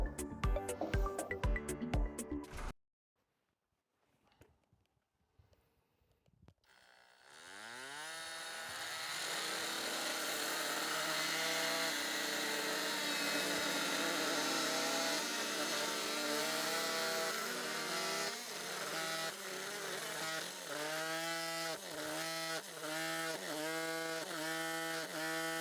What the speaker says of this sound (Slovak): Je vidieť, že rýchlosť oscilácie pri nastavení 1 až 6 má veľký vplyv na rýchlosť pílenia.